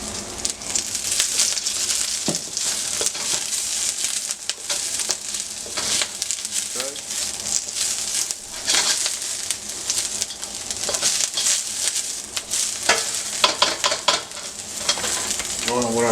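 Garlic and onions stir-frying in oil for beef chow mein, a loud continuous sizzle and crackle with repeated scraping and clattering of the spatula throughout.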